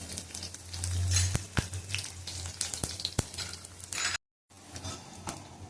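Cumin seeds and curry leaves crackle and sizzle steadily in hot oil, close by, with a few sharp clicks of a utensil against the pan and a brief cut to silence near the end.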